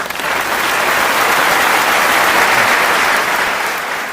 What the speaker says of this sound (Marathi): वाजवा टाळ्या.